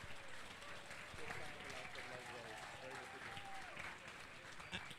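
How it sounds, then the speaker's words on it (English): Audience applause at an Easter Puja music program in Australia, after a young performer plays with live tabla: a faint, continuous crackle of many hands clapping, with a voice talking over it. "So another round of applause."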